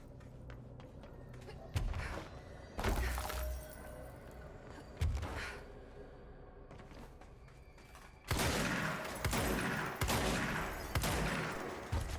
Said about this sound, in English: Why am I shooting these things?